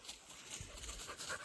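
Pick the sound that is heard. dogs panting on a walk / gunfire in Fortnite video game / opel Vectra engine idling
dogs panting on a walk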